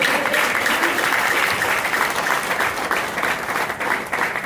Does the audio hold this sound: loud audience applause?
yes